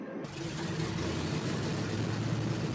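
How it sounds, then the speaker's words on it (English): The engine of a Koolhoven FK.58 aircraft in Flight Simulator X catches after a brief quiet moment, then settles into a steady, loud droning rumble that fills the rest of the clip. "Let's hear her start her engine up, shall we?"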